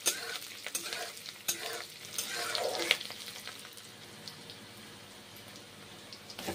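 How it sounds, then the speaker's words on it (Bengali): Onions frying in hot oil, a close crackling sizzle with stirring scrapes in the first few seconds, then settling into a softer steady hiss, no talking. "পেঁয়াজগুলোকে ভেজে নিচ্ছি"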